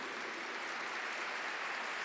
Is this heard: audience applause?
yes